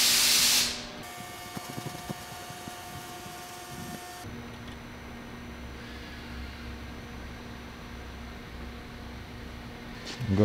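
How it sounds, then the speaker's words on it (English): A short hissing burst of wax and grease remover sprayed onto a microfiber cloth, close and loud at the start, followed by quiet workshop background noise with no talking. "We're gonna get some of this wax and grease remover on a microfiber."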